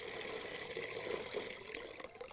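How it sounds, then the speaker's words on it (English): Manured water from a pond-fed garden tap pours steadily into a container, a continuous close gushing and bubbling fill with no voices over it. "And we fill this up and it's just well manured water"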